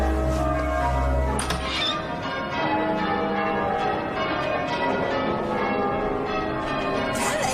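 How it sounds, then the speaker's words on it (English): Church bells peal continuously in a full, loud, overlapping ring of sustained tones, with a low hum at the start and no talk over them. "There's not going to be a wedding, so you can stop ringing them bloody bells."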